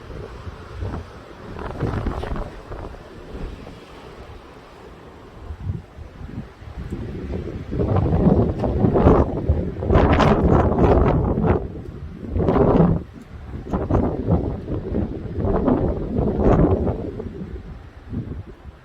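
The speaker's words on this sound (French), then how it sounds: "Là, je crois qu'il y a eu la plus puissante rafale" Powerful gusts of Storm Larisa in Mérignac roar against a closed car window, surging in repeated loud blasts with buffeting noise between quieter lulls.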